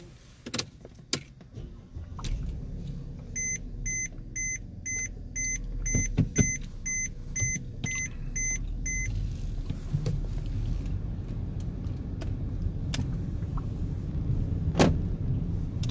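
A Mercedes-Benz GLK350 interior rumbles with road noise while a series of evenly spaced electronic chimes beep, followed by clicks and thuds of the doors locking automatically while driving.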